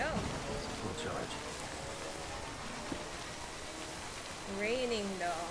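Steady rain hisses across a game world in Death Stranding, a dense even wash of falling water with faint drop textures, while someone talks quietly over it.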